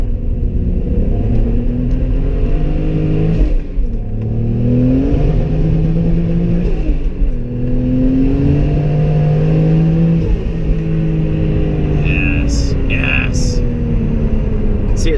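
A 700whp twin-turbo Toyota Supra pulls hard through the gears, its loud engine note climbing in rising sweeps with short breaks at each shift and a steady rumble underneath, close and continuous, with a voice talking over it.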